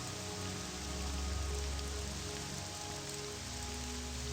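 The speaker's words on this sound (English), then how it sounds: "I hate how much it rains here" Steady rainfall in the Morrowind video game, a dense, even hiss of drops on surfaces that continues without pause, with a low rumble underneath.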